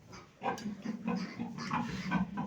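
Piglets grunt and squeal nearby in a pen in a continuous, busy chorus of short snorts and higher cries, fairly quiet overall.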